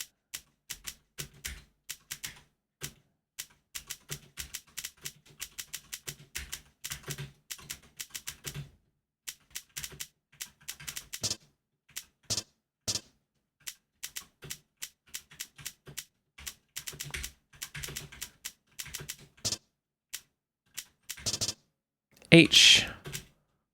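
Rapid clattery keystrokes on a computer keyboard during a typing game, coming in quick irregular bursts with short pauses, close and crisp, with a voice speaking briefly near the end.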